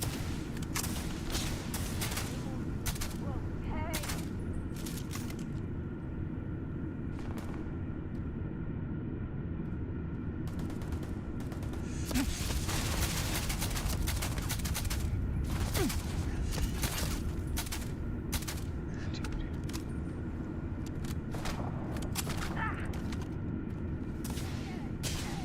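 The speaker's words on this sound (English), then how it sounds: "It totally does sound like a BB gun." Gunfire in the Starfield video game with a light, rapid rattle like an automatic BB gun: repeated bursts of sharp snapping shots over a steady rumbling background, loudest and densest in the middle stretch.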